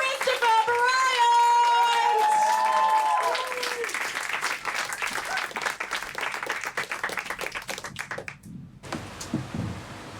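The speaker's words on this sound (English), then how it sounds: "Start bringing it up. Go absolutely crazy for Christopher Bryant!" An indoor audience at an event bursts into loud, sustained applause and cheering that gradually thins out, with voices ringing over the start before the clapping takes over.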